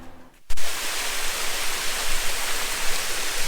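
A stream of warm water runs at Pamukkale, a loud broadband rush that starts abruptly after a brief quiet moment and continues steadily close by.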